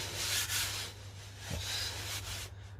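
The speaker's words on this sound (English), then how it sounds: "I'm going to do a 240 grit sanding pad all over this panel" Steady rubbing and scraping of a 240-grit sanding pad across a primed car body panel, continuous strokes with a low hum underneath, close by.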